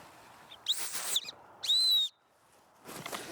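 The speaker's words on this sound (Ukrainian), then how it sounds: "Крім свистка, щоб покликати на допомогу." A survival whistle packaged with a military-style knife sounds three shrill blasts, two short ones and then a steadier, louder middle one, close to the microphone with faint room hiss between them.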